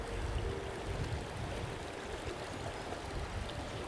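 A fast-flowing river current rushes in a steady, even wash of water, close and constant with no breaks, and no voices over it.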